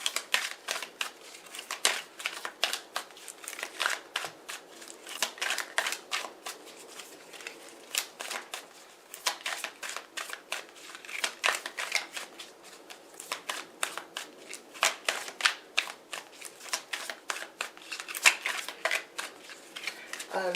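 Tarot cards are shuffled continuously at close range, a dense run of rapid riffling and flicking strokes that keeps going without pause.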